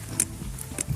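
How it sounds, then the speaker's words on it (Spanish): Pigs grunt at a riverbank in the mountains, with several short, close grunts spread across a brief moment over steady low outdoor background. "Cerdos a la orilla del río."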